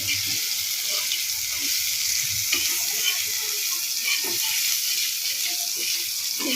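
Chow mein ingredients frying in a pan, a steady close hiss of sizzling oil throughout with occasional soft scrapes and knocks from stirring.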